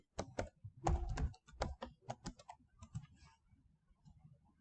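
Someone types a web address on a computer keyboard in quick bursts of close, crisp key clicks that thin out toward the end, with no talk.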